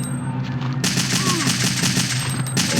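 Rapid gunfire in Resident Evil 3 Nemesis (Biohazard 3), a burst of quick repeated shots that starts after a short pause and keeps going steadily, loud and close, over game background sound.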